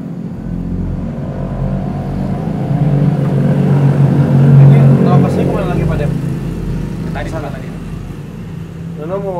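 A noisy motorbike engine rumbles and swells as it passes close by, loudest mid-pass then fading, with people talking over it.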